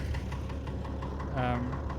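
A Fordson tractor engine runs steadily at close range, a low continuous drone with a knocking rumble throughout, while someone talks over it.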